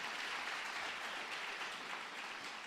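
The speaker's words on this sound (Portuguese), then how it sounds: "Pode dar uma salva de palmas ao Senhor, irmão." A church congregation claps for the Lord in faint, steady, even applause, heard at a distance with no voices over it.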